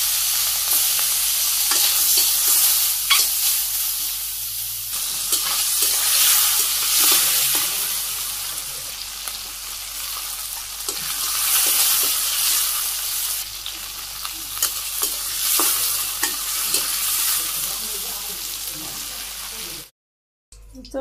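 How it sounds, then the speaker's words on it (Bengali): Fish frying in hot oil in a wok, a loud, steady close sizzle with occasional scrapes and pops, continuing for about twenty seconds before cutting off abruptly. "তেলও গরম হয়ে গেছে, মাছ দিয়ে দিলাম।"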